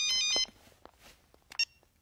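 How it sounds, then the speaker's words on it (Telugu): An electronic telephone ringtone plays a short, bright burst and then a second brief chirp after a quiet gap, in a mostly still room. "నీలు, ట్రావెల్స్ నుంచి ఫోన్, నీ టికెట్ కన్ఫర్మ్ చేయాలని అడుగుతున్నారు."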